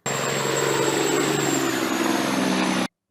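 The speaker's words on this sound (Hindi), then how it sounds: "ट्रक," A truck engine drones steadily at moderate volume for nearly three seconds, an even mechanical hum with a faint high whine above it, and it stops abruptly.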